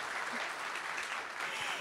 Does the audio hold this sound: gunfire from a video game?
no